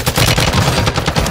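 Rapid automatic gunfire in Warzone 2.0, a loud, close, unbroken burst of shots that lasts the whole moment.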